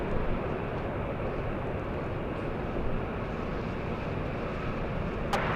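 An arriving airliner passes directly overhead at LAX, a continuous loud broadband jet roar that holds steady throughout with no voices over it.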